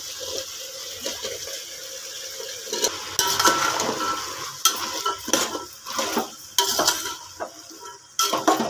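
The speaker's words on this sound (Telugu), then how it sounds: "ఇలా ఫ్రై చేసుకొని మంచిగా ఫ్రై చేసుకుందాం ఉడికేదాకా" Potatoes, peas, carrots and beans frying in oil in a pan, with a steady sizzle under repeated scraping and stirring clinks of a spoon against the pan, close up.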